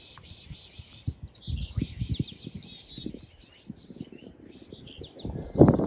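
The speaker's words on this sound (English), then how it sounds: "Oh, you brought in some chickadees." Small birds call repeatedly with high, thin chirps over soft rustling and low thumps, a louder burst at the end.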